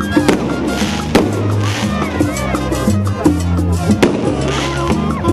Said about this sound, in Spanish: Luces de todos los colores estallaron en el cielo, un castillo de juegos pirotécnicos